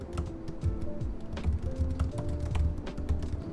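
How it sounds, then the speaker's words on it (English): Fast, light typing on the Magic Keyboard of an M1 MacBook Pro, a run of soft, close key clicks and taps with no talking. "the Magic Keyboard. It's one of the best keyboards I've ever had on a laptop."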